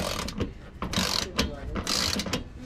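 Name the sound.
ratchet tightening bolts after an oil and filter change on a 2020 Dodge Charger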